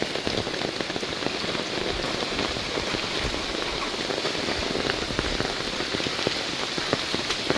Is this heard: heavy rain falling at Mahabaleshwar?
yes